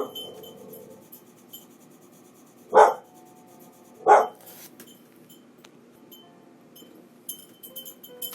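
A pet dog named Vicky barks twice at emergency vehicles passing outside a quiet house, two sharp, fairly close barks a little over a second apart amid faint room noise.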